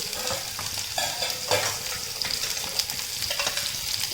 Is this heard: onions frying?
yes